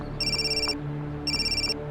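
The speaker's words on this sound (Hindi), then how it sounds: "क्या घंटी जा रही है?" A telephone rings twice, two short, bright electronic trills separated by a brief pause, moderately quiet and with no one talking.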